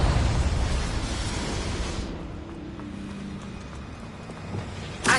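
A Confringo fire spell in Hogwarts Legacy bursts with a loud fiery blast that rumbles and fades over a couple of seconds, followed by quieter ambience and a brief thump at the end.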